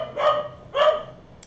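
A dog barks twice in quick succession indoors after a doorbell, two sharp, fairly loud barks about half a second apart, standing out against a quiet room.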